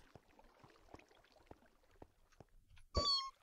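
A Mew in the Pixelmon Minecraft Pokémon mod lets out a short, bright, high cry near the end, loud against a faint background of soft game footsteps and taps.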